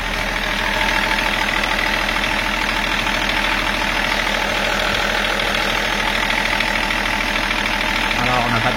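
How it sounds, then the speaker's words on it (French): A BMW 330d E46 diesel engine idling after a turbo installation, a steady loud clattering rumble with a continuous knocking rhythm, close and constant throughout, with a voice faintly audible beneath it. "on va laisser tourner le moteur pendant quelques minutes"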